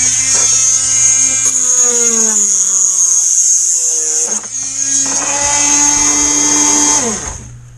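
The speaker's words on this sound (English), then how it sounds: "I'm going to take my Dremel." A Dremel rotary tool trims a part for an RBC Kits Jersey Skiff model boat build, a close, steady high-pitched whine that shifts in pitch as it bears on the piece, dips briefly midway, then winds down near the end.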